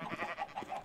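Minecraft sheep bleating, a short, quick wavering bleat of several pulses, close and fairly quiet with no voices.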